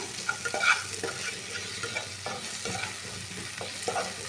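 Tomatoes sauté in a pan for an ice apple chicken gravy, with a continuous close sizzle broken by regular spoon strokes stirring and pressing them, and no voices.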